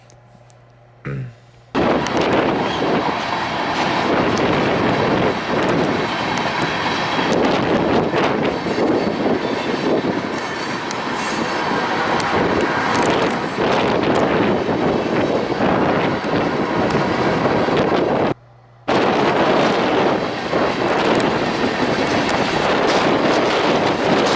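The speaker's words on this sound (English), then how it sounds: "there goes the locomotives further into the Cajon Pass Mountains" Freight train locomotives rumbling through the mountains of Cajon Pass, a broad, steady roar heavily mixed with wind buffeting the microphone, continuous and fairly loud for most of the stretch with a brief drop near the end.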